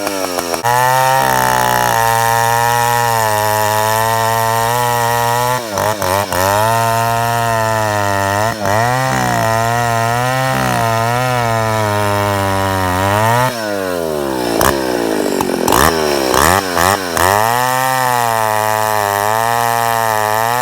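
A Husqvarna L65 chainsaw cuts through a log, its engine roaring loudly and close, with pitch swings as it bogs down in the wood and revs back up over about twenty seconds, and no talking.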